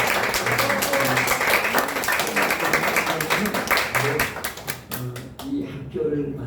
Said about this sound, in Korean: 우리 정지훈 총장님 앉아서 박수 한번 해주세요